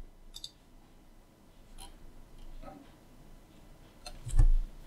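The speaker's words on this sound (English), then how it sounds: "I'm just gonna type this" Scattered keyboard clicks come in a few short, irregular bursts of keystrokes. They are fairly faint and close, against a quiet background.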